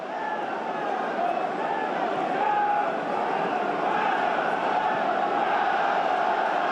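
A large football crowd roars and chants steadily at the Stadium of Light in Sunderland, a dense, continuous wall of cheering heard from within the stands throughout.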